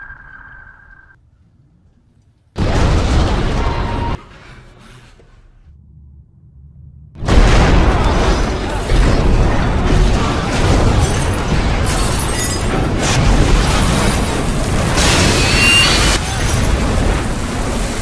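Heavy booming underwater bomb blasts striking a World War II submarine, loud rumbling bursts after a quiet stretch, followed by a sustained roaring, crashing wash of noise with metallic shudders.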